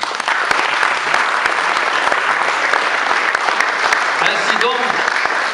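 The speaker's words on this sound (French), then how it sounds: "Je voudrais que vous les applaudissiez encore une fois." An audience applauds at a medal presentation ceremony, a steady, full wash of clapping that stays even and loud throughout, with a brief murmur of voices rising near the end.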